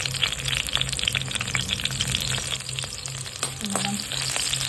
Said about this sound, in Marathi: आपण कटिंग केलेली मिरची टाकूया